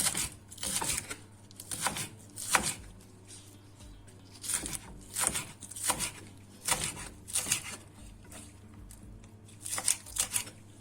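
Knife finely chopping onions on a board in quick bursts of soft rapid taps, close and fairly quiet, with short pauses between runs and no voices.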